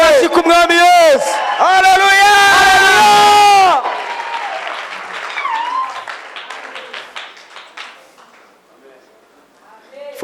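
A church congregation at a sermon cheers with loud, sung shouts, then breaks into scattered clapping and hand noise that fades over several seconds.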